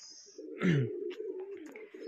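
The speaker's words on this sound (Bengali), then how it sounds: "আমার ভালোবাসার এবং শখের যে কবুতরগুলো এখানেই থাকে" Domestic pigeons in a rooftop loft, a close, low rolling coo that swells and then holds on, with soft wing flutters and faint chirps around it, no talking.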